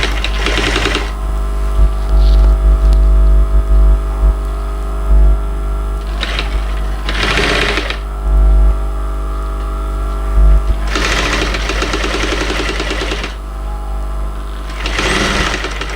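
Sewing machine stitching a leather tote bag, running in several short and longer buzzing bursts between pauses over a steady low motor hum, close and loud.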